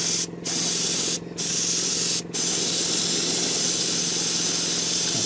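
Spray can laying a light paint coat on a Tamiya 1/12 Valentino Rossi riding figure, close and loud continuous hissing with three quick breaks early on before one long unbroken spray.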